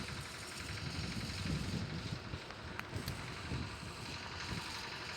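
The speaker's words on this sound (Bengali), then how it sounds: "এত হাওয়া হচ্ছে কি বলবো তোমাদের বন্ধুরা" Strong wind buffets an outdoor microphone with a steady low rumble and rushing noise, moderately loud and continuous, with no talk.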